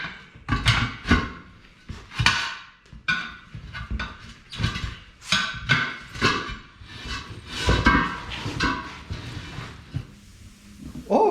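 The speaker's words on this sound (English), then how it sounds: "I'm going to do this old school with the slide hammer and whatnot" A slide hammer is worked against a tire to break it off the rim by hand, with tire spoons nearby. It gives a long run of loud, close, repeated metallic thuds and knocks in an uneven rhythm.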